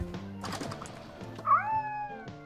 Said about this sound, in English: let's pet the cat